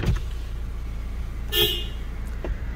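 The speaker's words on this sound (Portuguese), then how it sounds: "Deixa eu ver a buzininha dela." A single short, soft horn toot from a 2021 Toyota SW4 SRX diesel SUV sounds over a low idling engine rumble.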